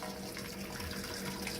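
Water recirculating through a pump and coil in a home-brew mash tun holding about 15–20 litres, a steady close rushing and splashing flow with no voices.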